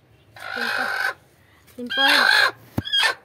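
A hen gives loud, close, drawn-out clucking cackles in two long bursts and a shorter third call, as she comes to lay eggs in a nest shared with ducks.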